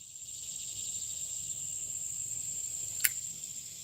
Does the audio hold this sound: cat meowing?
no